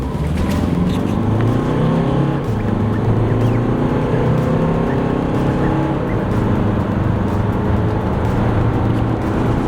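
A 2013 Honda CR-V's 2.2-litre, 150-horsepower engine runs steadily and loudly throughout, with a deep, continuous rumble and no speech.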